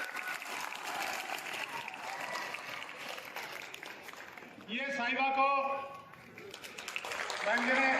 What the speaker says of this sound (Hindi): जोरदार तालियां साहिबा के लिए